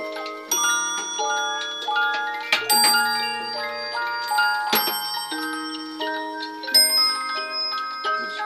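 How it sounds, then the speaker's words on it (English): A Symphonion disc music box with bells and a drum plays a bright melody of chiming bell tones, with occasional sharp percussive strikes standing out among the plucked notes. "There's bells down here, and it sounds like a drum as well."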